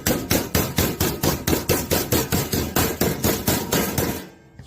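A regular hammer beats a Pittsburgh seam on HVAC sheet metal: about seventeen evenly spaced, loud metallic strikes in a brisk steady rhythm, close up, then stopping abruptly.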